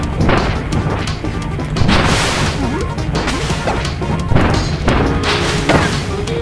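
Loud, dense crashing blasts and booms of a boss's cannon fire in Kirby's Return to Dreamland pile up in quick succession, with whooshing hits over a constant roaring din.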